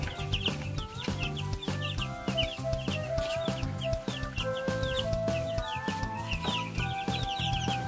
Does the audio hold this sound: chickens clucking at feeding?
yes